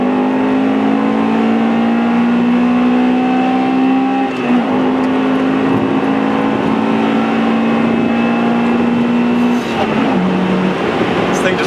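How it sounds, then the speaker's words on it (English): A 2001 Acura Integra Type-R race car engine drones loud and steady from inside the cabin, its revs climbing in long sustained pulls with a shift break near the middle, and a voice talks briefly over it. "Alright, you can hear this race car motor"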